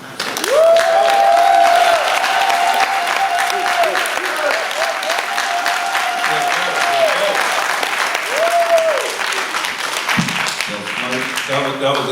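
An audience at a Kwanzaa celebration claps for a long stretch, a dense and steady burst of hands that fades near the end. A voice calls out over the applause, and talk follows.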